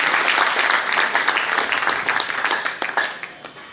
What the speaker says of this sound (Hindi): सभी उपस्थित स्वजनों से आग्रह कि कृपया तालियां बजाकर हमारे मुख्य वक्ताओं का स्वागत